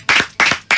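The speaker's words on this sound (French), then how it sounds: "Applaudissements." Audience applause at a televised French debate, three short loud bursts of clapping in quick succession, close and brief.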